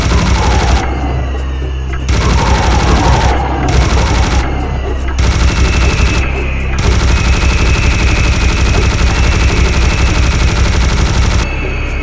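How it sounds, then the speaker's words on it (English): A Gatling gun in Serious Sam roars in long sustained bursts, loud and close, with brief pauses between volleys and a dense continuous rattle of shots. "I'm gonna need Gatling gun for this nonsense"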